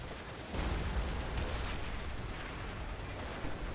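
105 mm artillery in a video game rumbles as a dense, low, continuous barrage of booms and blasts, heavy and somewhat distant, with no talk.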